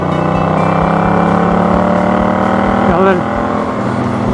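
A car fitted with a Van Diemen exhaust drones steadily and then drops in pitch as the throttle is released, staying smooth without pops, loud and close with a voice briefly under it.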